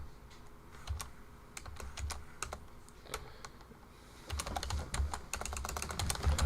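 Rapid, uneven clicking of keys on a computer keyboard during a live show, soft and close, with bursts of faster typing toward the end and no one speaking.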